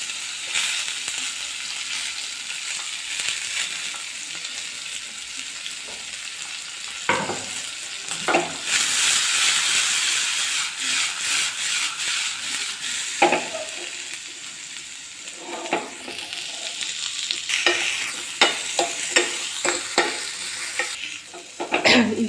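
Green chillies and grated coconut frying in a pan for ridge gourd thovve, a continuous close sizzle broken by repeated scraping stirs that grow busier toward the end.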